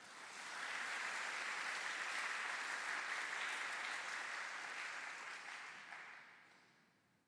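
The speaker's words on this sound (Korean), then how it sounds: "큰 박수 부탁드립니다." Audience applause fills a school event hall before a student choir performs, a dense steady clapping that swells quickly, holds strong for several seconds, then tapers away.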